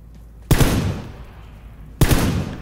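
Gunfire in the video game PlayerUnknown's Battlegrounds: two sharp, loud shots or short bursts about a second and a half apart, each trailing off in a rumbling echo.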